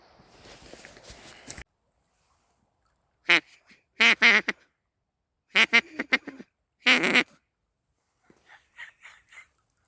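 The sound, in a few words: duck call imitating duck quacks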